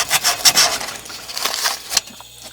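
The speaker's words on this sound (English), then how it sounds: "we're going to take a little bit of fine grained sandpaper and clean this off really good" Fine-grained sandpaper scrubbing copper freezer tubing in a series of quick back-and-forth rasping strokes, close and fairly loud, with the scratching stopping near the end and no talk.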